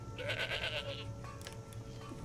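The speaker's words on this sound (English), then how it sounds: "Honestly, I was going to add a goat sound." A single goat bleat, wavering and nasal, rises for about a second over a low steady background hum, then fades into quieter rustling.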